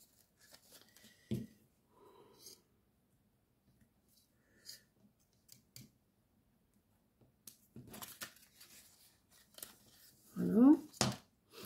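Scissors snipping paper while a handmade card is made, with sparse short close cuts separated by quiet gaps and a louder cluster of snips near the end.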